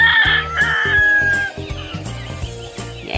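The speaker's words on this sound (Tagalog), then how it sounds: "Dami yung pabo." Turkeys gobbling on a free range farm, a flock giving repeated bursts of loud, close gobbling calls one after another, with no talking.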